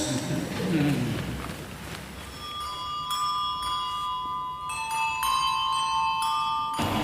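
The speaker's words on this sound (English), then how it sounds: "More fame for our special Dewsbury bells." Church bells in Dewsbury ring in overlapping metallic strikes that sustain and ring on, starting a few seconds in after a stretch of background noise and footsteps.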